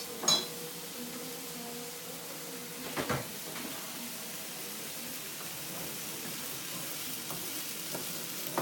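Garlic sautés in a hot pan, a soft continuous frying hiss with a sharp clatter near the start and another around three seconds, then quieter scraping and stirring under the sizzle.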